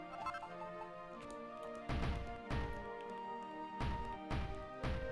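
Blocks smashed in the video game Dragon Quest Builders, a series of repeated crunching impacts at irregular intervals over background game music, fairly quiet overall.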